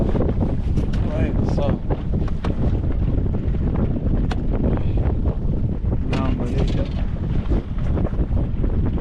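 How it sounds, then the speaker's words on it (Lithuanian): Steady wind buffeting over open water while fishing, with a constant rushing roar and faint splashing of waves; a voice speaks briefly in the background. "O, vėjas sukilo. Bangavimas atsirado"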